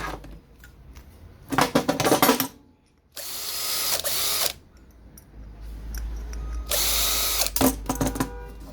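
A power drill runs in several short, loud bursts close by, with brief clicks and quiet gaps between them, while removing screws from scrap electronics.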